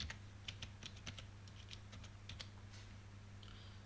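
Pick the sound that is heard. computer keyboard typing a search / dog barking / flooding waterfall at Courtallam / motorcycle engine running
computer keyboard typing a search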